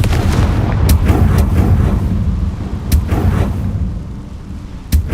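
A Confringo fire spell blasts in Hogwarts Legacy as a heavy rumbling explosion with sharp cracks at intervals and a low roar that fades.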